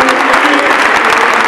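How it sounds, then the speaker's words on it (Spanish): A stadium crowd at a River Plate vs. Argentinos Juniors football match gives a loud, sustained ovation, a dense wall of clapping and crowd noise that fills the whole moment. "la ovación a Piscu"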